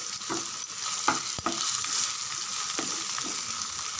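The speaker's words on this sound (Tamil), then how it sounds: "ஒரு டீஸ்பூன் இஞ்சி பூண்டு பேஸ்ட்டு நல்லா ஒரு ரெண்டு நிமிஷம் வதங்கிட்டுருக்கோம்" Ginger garlic paste sautéing in a pan, a steady close sizzle and frying hiss with a few soft spatula stirs and scrapes, no voices.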